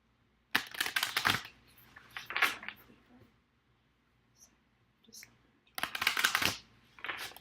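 Crisp riffling bursts of oracle cards being shuffled, three separate rounds with quiet pauses between, close by and moderately loud.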